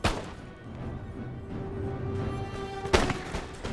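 A massed musket volley from guard infantry in Empire: Total War crackles out as one sharp, loud burst near the end, with a rumbling battlefield bed and scattered distant shots before it.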